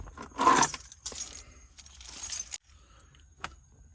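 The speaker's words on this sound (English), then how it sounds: "If I find my keys," Keys jangle loudly in several bursts while being dug out after installing a JDI push-start kit in a Honda Accord CB7, with a brief fainter clink near the end and no talking.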